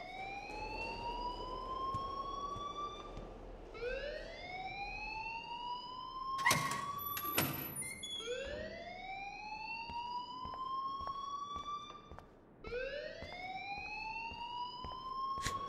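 A wailing electronic alarm rings in the Life Is Strange video game, loud and close, with repeated rising sweeps that climb and hold, broken by sharp clattering bursts midway.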